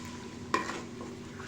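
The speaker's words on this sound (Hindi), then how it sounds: "और उसके बाद ये थोड़ी देर तक इसी तरीके से हम भूनेंगे ऐसे।" Beef nihari masala stirred and fried in yogurt in a pan, with a steady low sizzle and a single sharp scrape or clink of a spoon partway through.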